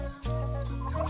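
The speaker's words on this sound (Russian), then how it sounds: "Вот этому индюку 3 месяца." A three-month-old turkey in a poultry house gobbles once, a loud, close, rippling call that fills most of the moment, with no talk.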